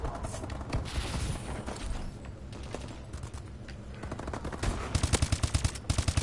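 Rapid gunfire rattles through an online match of Call of Duty Advanced Warfare, with dense bursts throughout and a sharp run of evenly spaced shots near the end. A player's voice shows up faintly among the shooting.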